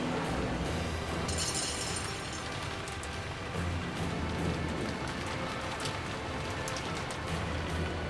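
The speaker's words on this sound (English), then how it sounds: "the whole thing fell on itself with an earth-shattering crush" In the Umineko: When They Cry video game, a tower collapses with a dense, continuous crashing roar of shattering debris and rubble, loud and sustained throughout with no talking.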